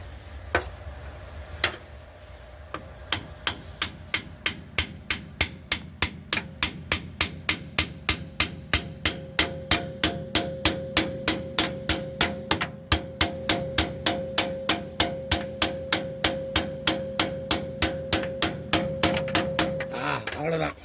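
A hammer taps an air dryer part into place on a truck, giving a long, steady series of sharp metallic knocks at an even rhythm that speeds up slightly. The blows are close and clear, with a faint hum behind them.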